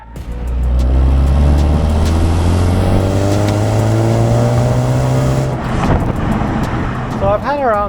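A BMW car is being driven, heard from inside. The engine note climbs steadily and loudly through the revs, then drops off about two thirds of the way through, and a voice briefly comes in near the end.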